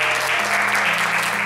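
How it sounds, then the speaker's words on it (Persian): A church congregation claps in a steady, dense burst of applause that holds at an even level throughout, with low tones sustained beneath the clapping. "ما در دست زدن ماهر هستیم."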